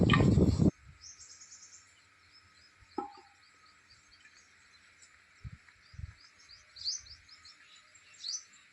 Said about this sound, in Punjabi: ਚਿੜੀਆਂ ਬੋਲ ਰਹੀਆਂ ਸੀਗੀਆਂ ਜੀ ਵੀਡੀਓ ਦੇ ਵਿੱਚ ਬਹੁਤ ਹੀ ਜ਼ਿਆਦਾ ਸੋਹਣੀਆਂ ਲੱਗ ਰਹੀਆਂ ਸੀਗੀਆਂ